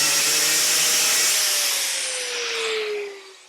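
A power tool cuts into the shock of an Inmotion RS Lite electric unicycle, a loud, close grinding rasp with a whining tone that slowly drops in pitch under load before the cut eases off at the end.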